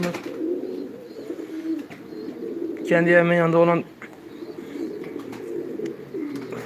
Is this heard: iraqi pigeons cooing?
yes